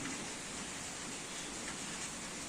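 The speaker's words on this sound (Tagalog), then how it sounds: "Of course, because it's raining." Steady rain falls during the rainy season in Nepal, a dense, even hiss of drops on surfaces, close and continuous with no voices.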